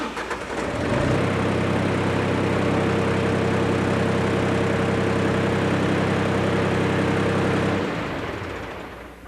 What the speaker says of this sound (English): Now let's start the tractor and check our pressure.